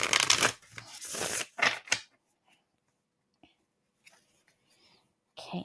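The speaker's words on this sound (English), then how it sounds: "Okay, one more shuffle." Oracle cards being shuffled close up in quick, crisp riffling bursts, then a quiet pause with a few faint taps before another short riffle.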